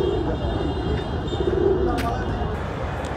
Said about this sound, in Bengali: ভাইয়ের কবুতর সব হাটে যা যা আছে দেখতে পাচ্ছেন, সব গিরিবাস।